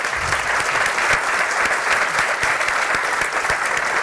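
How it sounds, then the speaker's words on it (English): Sustained, loud applause from a conference audience at a Digital Northwest presentation, dense steady clapping filling the room without a break and no talk over it. "let me lead the audience in giving you a warm of applause"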